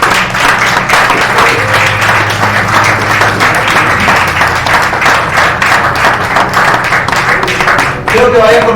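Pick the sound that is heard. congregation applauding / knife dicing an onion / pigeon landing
congregation applauding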